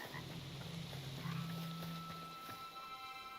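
A frog in the video game Hytale croaks in a low, drawn-out tone near the middle, with soft footstep-like taps and ambient hum around it.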